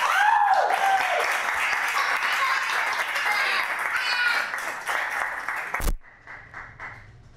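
An audience at a library poetry reading claps warmly for several seconds, a dense, close round of applause that cuts off abruptly and leaves a quiet room.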